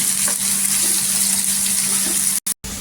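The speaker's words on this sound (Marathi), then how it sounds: "छान असं गोल्डन कलरवर परतून घ्यायचं" Chopped onions frying in oil in a pan until golden, for kande pohe, give a steady close sizzle throughout with no talking, broken only by two brief silent dropouts near the end.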